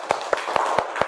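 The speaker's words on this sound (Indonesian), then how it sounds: "Tepuk tangan dulu untuk Malik" A classroom of students gives a short burst of rhythmic clapping for a classmate named Malik, about five even claps in quick succession, close and fairly loud.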